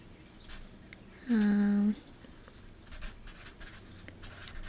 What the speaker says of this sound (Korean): 그럼 제목부터 일단 써볼게요.